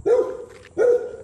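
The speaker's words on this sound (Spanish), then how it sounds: "Es el perro malo que les agarra" A dog gives two loud, close barks about half a second apart, each a short gruff burst, outdoors with no talk over them.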